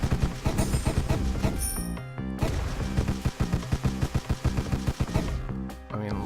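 Rapid gunfire in a shooter video game, a fast string of loud, sharp bursts with brief pauses, mixed with game effects.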